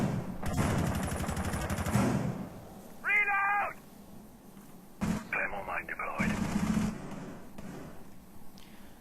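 Gunfire in Rainbow Six Siege during a tournament match, sharp bursts of shots heard among caster commentary, with a brief high wailing sound in between.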